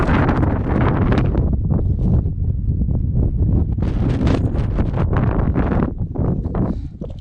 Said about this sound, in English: I know the wind is going to be horrendous up here.